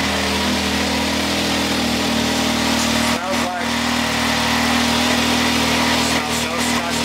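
A car engine running on E85 fuel runs at a steady idle throughout, loud and close, with a brief dip partway through.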